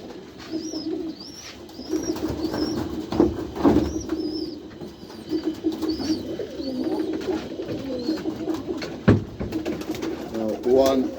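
Pigeons at a white pigeon loft coo in repeated soft, low phrases. Scattered higher chirps and some handling noise run alongside, and the birds are close and steady throughout.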